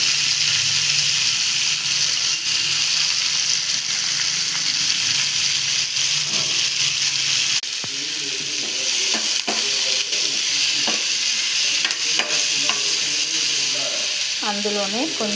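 Tomatoes, added after onions for egg biryani, fry in a pan with a steady close sizzle and hiss, broken by scraping stirs and small clatters, while a person talks intermittently over the cooking.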